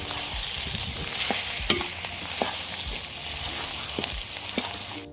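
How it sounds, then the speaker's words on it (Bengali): Rohu fish roe sizzles in a frying pan while a utensil stirs it, giving repeated scraping clinks over a continuous close frying hiss. "এবার ভালোভাবে ডিমগুলো একসাথে মিক্স করতে হবে।"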